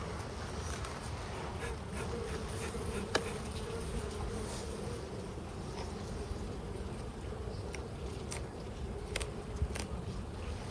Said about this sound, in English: A lot of bees. Lots of bees.